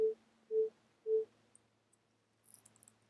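A Pure Data synthesized tone shaped by a complex envelope sounds three short, evenly spaced beeps, followed by faint clicks and a soft low hum.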